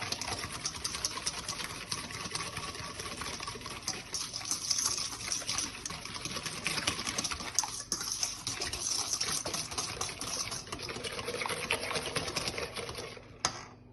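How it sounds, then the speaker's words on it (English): Eggless chocolate cake batter is whisked by hand in a bowl, a fast, continuous close rattling swish of the whisk that runs steadily and stops abruptly near the end. "I'm just going to go ahead, whisk this together"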